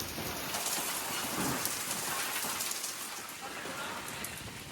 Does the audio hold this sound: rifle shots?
no